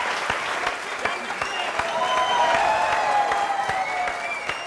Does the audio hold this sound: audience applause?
yes